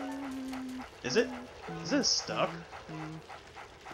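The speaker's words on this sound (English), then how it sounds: "And that makes that dog happy." A dog in the Luigi's Mansion video game gives high whimpers and short yips, rising and falling cries heard mostly around a brief spoken question.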